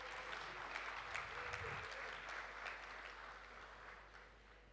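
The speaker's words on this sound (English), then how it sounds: "can we give them a round of applause?" An audience at the AfriLabs Annual Gathering in Nigeria gives a round of applause for visiting guests, dense steady clapping that slowly fades, with a faint hum underneath.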